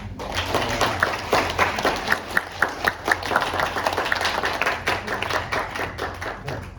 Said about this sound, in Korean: 다시 한번 손말잇기 팀에게 박수 한번 부탁드립니다